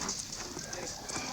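Horses from a cavalry patrol at a frontier fort clip-clop in quick, steady hoofbeats, mid-distance, under a voice giving orders.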